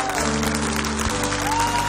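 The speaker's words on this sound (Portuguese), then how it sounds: "Pode aplaudir este Deus maravilhoso." A crowd at a sertaneja religious festival led by a priest applauds, a dense, loud burst of clapping that continues throughout over a steady low musical backdrop.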